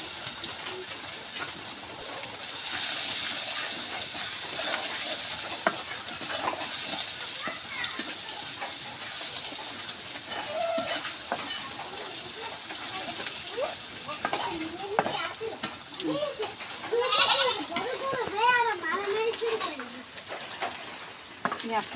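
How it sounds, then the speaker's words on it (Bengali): Chopped onion and garlic fry in oil in a wok with a steady sizzle, broken by stirring scrapes and occasional clinks of a utensil against the pan, while a voice talks intermittently over the cooking. "পেঁয়াজটা আমার লাল লাল করে ভাজা হয়ে গেছে।"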